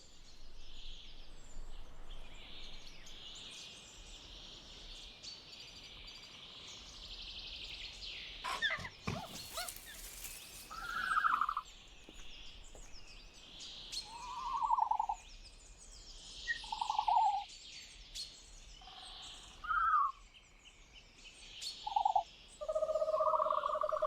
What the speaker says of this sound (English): That's the call of Dilophosaurus weatherilli.